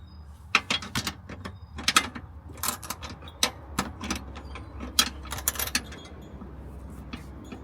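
A socket wrench ratchets on a suspension bolt of an S550 Mustang GT, with irregular bursts of sharp metallic clicks, close and fairly loud, separated by short pauses, over a low steady background hum.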